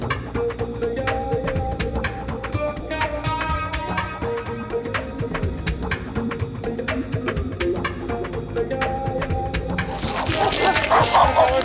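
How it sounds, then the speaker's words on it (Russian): Dogs bark and yip in the distance near the sea in winter, several voices overlapping in a steady chorus, with rustling and some faint noise closer by. "Собачки."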